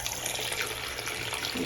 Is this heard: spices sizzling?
no